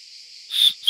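A small plastic whistle on a Mountaintop 80L backpack's chest strap gives two short, soft, high-pitched toots close by.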